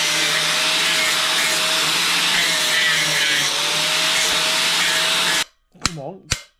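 Power tool trimming the corners of a steel motorcycle number plate on a Norton bobber, a loud steady whine held for over five seconds, then it cuts off into brief low clunks and handling noises.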